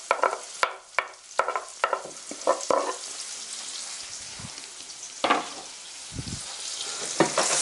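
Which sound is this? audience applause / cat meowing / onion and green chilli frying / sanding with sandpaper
onion and green chilli frying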